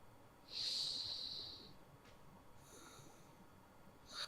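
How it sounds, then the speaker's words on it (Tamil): A single forceful exhale through one nostril during alternate nostril pranayama breathing, a close, airy hiss lasting about a second, followed by softer breathy sounds in a quiet room. "வலது கையை அடைத்து கொண்டு இடது பக்கமாக மூச்சை வெளியே விடுகிறேன்"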